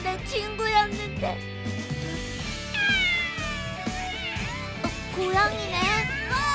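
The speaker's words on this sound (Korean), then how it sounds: "고양이네." A cat meows a few times amid a busy animated scene from a dinosaur-robot cartoon, with children's voices, music and effects layered around it.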